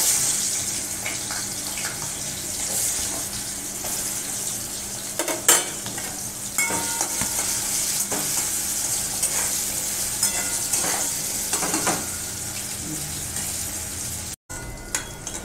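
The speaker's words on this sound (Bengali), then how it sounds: "এবার আমি গাজরগুলো ভেজে নেব।" Carrots fry in hot oil in a pan, giving a steady close sizzle with occasional stirring scrapes and clinks, with no talking over it.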